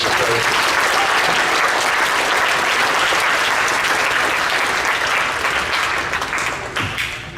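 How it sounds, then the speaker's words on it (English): Applause at a Kimball homecoming coronation event in South Dakota for a 9-man football team: dense, steady clapping from a crowd, loud throughout and tapering slightly at the end. "give them a round of applause for that"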